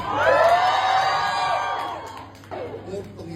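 A loud crowd shrieks and cheers together, high and excited, then the noise fades and scattered voices and chatter follow.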